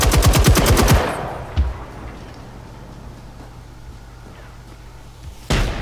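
Machine gun fire in the Generation Zero video game, a loud, rapid burst of shots lasting about a second, followed by a few scattered distant cracks and a final shot at the end.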